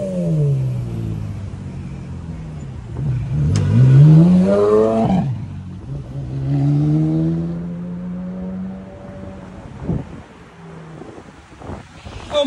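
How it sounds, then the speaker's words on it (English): A Mirage GT hypercar on a London street roars past with loud, rising and falling engine sweeps that build, surge, then fade and return, over wind noise. "No way, it's a Mirage GT!"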